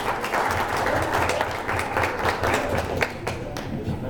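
Round of applause from an audience at a South County Tiger Bay forum held at a club venue, dense steady clapping from many hands at moderate volume for several seconds, with no talking over it.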